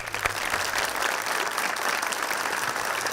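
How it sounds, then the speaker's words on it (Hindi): Audience applause on a talk show for a guest actress, a dense, even burst of many people clapping at close, loud level with no talk over it. "मीरा जी के लिए तालियां जी"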